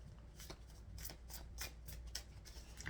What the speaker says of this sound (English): I swear I shuffled them really well.